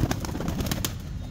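Large fancy pigeons, Sentinet, Lakka and Shirazi breeds, coo with soft, low throaty calls, several overlapping in a short burst, close by, with rustling and clatter around them and no talk.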